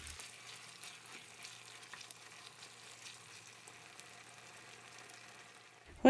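Chilli beef being stirred in a pan, with a steady, even sizzle of frying running throughout and a brief louder bump at the very end.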